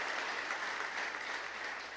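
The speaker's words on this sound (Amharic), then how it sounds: "እስኪ በጌታ አጨብጭቡላት ለዚህ ሴትዮ።" A church congregation breaks into steady, sustained applause, a dense wash of clapping heard at moderate distance with no voices over it.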